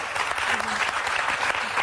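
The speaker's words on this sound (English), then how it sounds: "Light applause." Light applause from a studio audience on a daytime talk show, a dense, even patter of clapping that holds steady for about two seconds.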